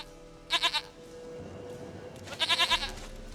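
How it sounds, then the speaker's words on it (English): A goat in The Witcher 3 lets out two quavering bleats, each a short run of wavering pulses, separated by a pause over a low, steady background hum. "Goat of mine! Dearest, sweetest goat!"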